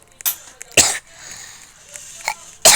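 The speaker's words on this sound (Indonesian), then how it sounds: "aduh maaf ya guys, aku tuh lagi batuk" Someone indoors coughs in a series of short, harsh bursts with quiet gaps between them, and a final loud cough comes at the end.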